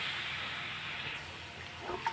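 Spice paste and bata fish fry in a pan, making a steady, close sizzling hiss that eases slightly before a small stir or clink at the end, with no talk.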